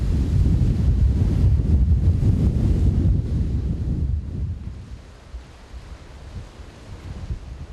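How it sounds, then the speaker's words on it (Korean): Rough seas off Jeju on a rainy, stormy day surge and crash in a dense, roaring wash, with heavy wind buffeting the microphone before easing. "파도는 험상궂은 모습으로 바다를 몰아붙인다"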